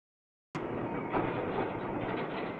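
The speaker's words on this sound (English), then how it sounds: "Finally comes the wiring train." A railway wiring train with two flat trucks rolls along the track, a steady rumbling run that starts abruptly after a short silence and holds an even, moderately distant level.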